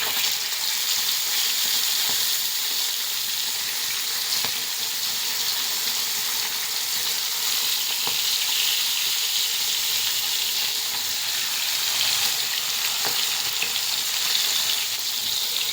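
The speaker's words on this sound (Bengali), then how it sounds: "তাওয়াতে ফ্রাই করব তাহলে মাছগুলো বেশ আস্তে আস্তে ভালো ফ্রাই হবে" A kilo of small fish frying slowly on a tawa makes a dense, even sizzle that holds steady, with faint occasional crackles.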